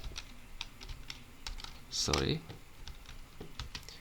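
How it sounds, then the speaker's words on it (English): Typing on a computer keyboard: a quick run of light, close key clicks spread across the moment, with a brief louder burst in the middle and no talking. "you need to type in the search bar Windows"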